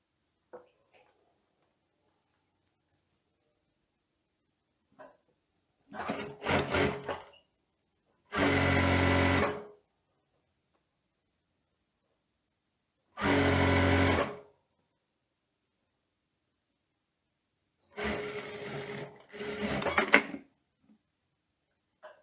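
A sewing machine stitches the hem of a teddy coat from centre front to side seam in several separate bursts: short stuttering runs, then longer steady whirring spells, separated by quiet pauses.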